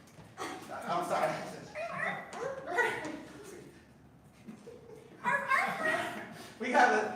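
A dog whimpers and gives short high yips in repeated bursts close by, with a brief quiet pause between them and no clear talk.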